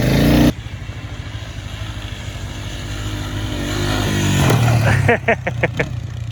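A Honda ATV fitted with skis, ridden over bumpy snow, its engine droning steadily and rising in pitch as it revs, close and loud, with rhythmic pulsing toward the end.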